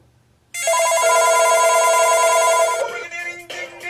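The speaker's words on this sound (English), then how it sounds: "That rings. The bar phone. Oh yeah. The 8-ball phone and cordless Panasonic." Old landline telephones, an 8-ball novelty phone and a cordless Panasonic, ring together in a loud electronic trill that starts abruptly, holds steady for about two seconds, then breaks off into a shorter, different ring.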